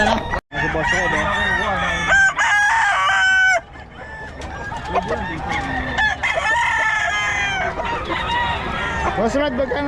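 Roosters crow repeatedly and chickens cluck at a Philippine poultry seller's yard, the calls loud and close and overlapping almost continuously, with some talk mixed in among the birds.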